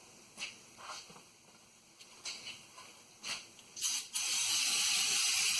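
Penetrating oil sprayed onto a stuck bolt during pinion seal work on a 2011 RAM 2500 HD 6.7 Cummins: a few faint clicks and taps, then a loud, steady hiss of spray running unbroken for over a second.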